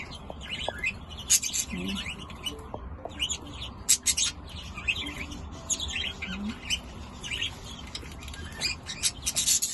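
Young birds chirping around a garden bird bath, frequent high tweets and short calls in irregular bursts over a low steady background rumble.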